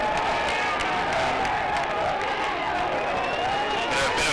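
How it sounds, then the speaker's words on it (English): A rugby crowd at a Saints home match lets out ironic cheering, a broad, steady wash of cheers and scattered applause from a large stadium crowd at moderate distance. "Bit of ironic cheering there by the Saints crowd."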